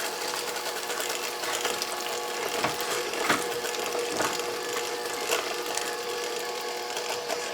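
An electric beater working plum cake batter mixed with caramel, giving a continuous motorized whir with faint wet churning and occasional clicks of the beaters against the bowl, steady and fairly close, with no talk.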